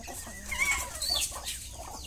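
Chickens cluck in a farmyard, a few close, short clucks and squawks over a busy background of other birds.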